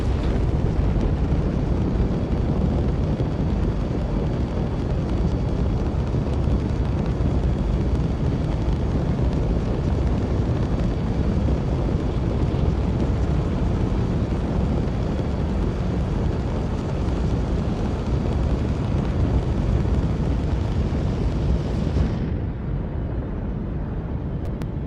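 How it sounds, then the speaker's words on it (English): A steady, loud spaceship engine roar in Star Citizen fills the whole stretch, rough and crackling with popping bursts, then drops slightly in intensity near the end. "I love the fact you can hear the engine. Not sure about all the crackly explosions, though."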